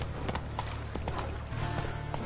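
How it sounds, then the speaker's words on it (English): Horse hooves clip-clopping at a steady walk in The Witcher 3 video game, a busy layer of hoof beats over constant game ambience, with no talking. "Whoa there, Roach."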